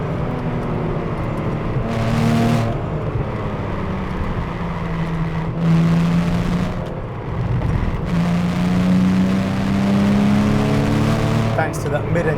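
A Porsche Cayman 987 S first-generation mid-engine flat-six revs hard to about 6,500 RPM in repeated climbing pulls with rising harmonics, loud and close, with talk over parts of it.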